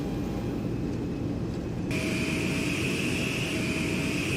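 An airliner rolls on the runway after landing, a loud, steady roar of engines and rushing air that brightens partway through, heard close up from on board with no talk.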